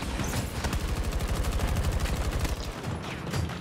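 Rapid automatic gunfire rattles in Battlefield 2042 Portal on the Noshahr Canals map, a fast, steady stream of loud shots that eases off near the end.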